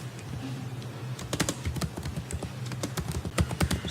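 Typing on a computer keyboard, rapid irregular clicks of keys close up, some bursts quick and dense, others spaced, with no voice.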